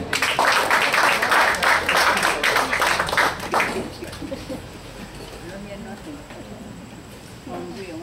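Audience applause at a Generation Next event in Tunapuna breaks out loudly for about four seconds, then fades into scattered claps and room murmur.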